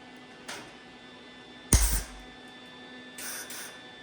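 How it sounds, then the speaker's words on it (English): A welder lays short, quick tacks on a rusty car repair panel, a few brief crackling hisses: a faint one, a sharper louder burst, then two more faint spits. "And my welder is giving me lots of trouble. And just short, quick tacks like that."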